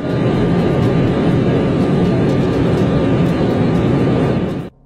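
A loud, steady engine drone fills the airplane cabin during a flight over Zambia, continuous and unbroken until it cuts off abruptly at the end.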